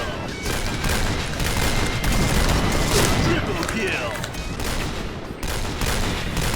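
Sniper fire from a CheyTac M200 in the shooter game Point Blank, dense continuous gunfire and booms filling the whole stretch with a voice talking underneath.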